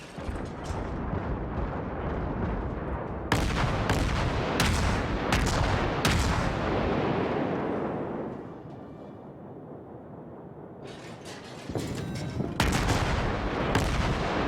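Naval guns firing shells in World of Warships, with loud repeated booming salvos near the start and near the end and a rumbling decay fading between them. No voices.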